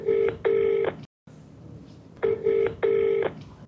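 A telephone call being dialed for a television program: repeated pairs of steady electronic ringback tones, loud and close, with a short silent gap between the sets.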